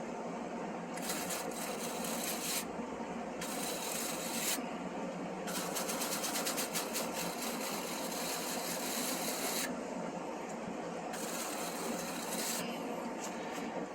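A fin comb scrapes along bent aluminium air conditioner condenser fins in repeated rasping strokes, a steady close scratching texture with brief pauses between passes.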